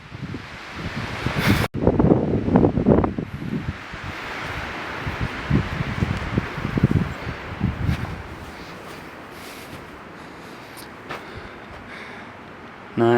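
Strong wind gusting near an old mine shaft on a road trip, loud roaring buffets against the microphone that ease into a steadier rush after several seconds, with a voice briefly heard.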